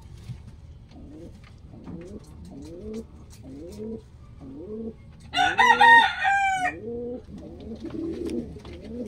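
Punjabi pigeons coo in a steady, repeated rhythm close by, with a burst of louder, higher bird calls breaking in briefly near the middle.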